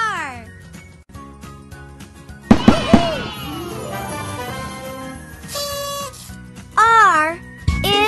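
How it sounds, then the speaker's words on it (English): Cartoonish rocket-launch sound effect in a kids' alphabet app: a rising whooshing sweep with bright popping bursts, jingly chimes and playful synthetic chirps, close and clear. "R is for rocket."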